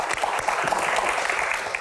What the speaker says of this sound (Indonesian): Tepuk tangan Pak Supratman.